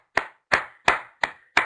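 Five sharp hand claps in a steady rhythm, about one every third of a second, close and crisp with nothing else heard.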